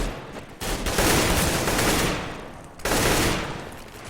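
Sustained automatic gunfire in a Counter-Strike match as players spray through smoke, two dense bursts of rapid shots with a brief gap between, loud and close with no talk.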